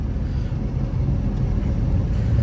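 A Duramax LB7 diesel truck engine fitted with a CTS3 tuner idles with a steady, loud, deep rumble that holds unbroken throughout, close by and with no voices over it.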